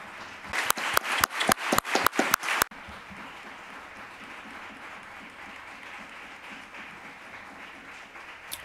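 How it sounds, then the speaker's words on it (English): Applause for a press conference panel: a brief run of about nine loud, evenly spaced claps close by, stopping abruptly and leaving a low murmuring room hum for the rest. "a big round of applause for the five people that were here at the press conference"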